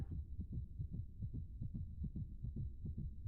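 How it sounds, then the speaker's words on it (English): Heartbeat sound effect in a video game, low muffled thumps in a steady rhythm of paired beats, about a dozen across the stretch, quiet and alone with a thin high tone held behind. "I don't want to listen to this heartbeat"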